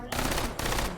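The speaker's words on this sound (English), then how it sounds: "Some CSGO Negev reloads happening here. Fire one shot." A Negev machine gun firing in the video game H3VR: two loud, sharp bursts of gunfire in quick succession, close and harsh, with no talking over them.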